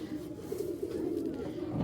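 Racing pigeons from a foreign bloodline coo softly and nearby, a low, throaty burbling that rolls on continuously through the short stretch.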